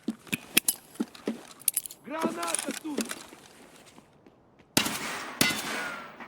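Grenade thrown at an enemy around a corner in the shooter game Escape from Tarkov, with clicks and clanks, then two sharp loud bursts of blast noise near the end, with short pauses around them.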